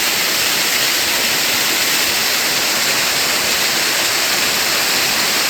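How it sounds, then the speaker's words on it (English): A waterfall inside a rocky Alberta canyon pours with a loud, constant rushing hiss, heard close and alone while someone rappels nearby. "Figured I'd show the waterfall."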